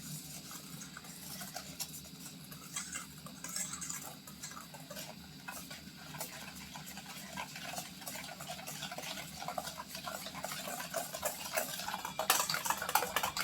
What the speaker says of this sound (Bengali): দুধ দিয়ে ভালো করে এটা মিক্সড করে নিলাম